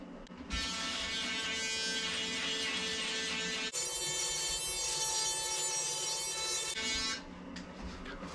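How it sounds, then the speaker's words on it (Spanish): Electric shaver buzzing steadily during a shave, a close, loud continuous drone with a brief shift in pitch partway through before it stops near the end. "Me voy a afeitar."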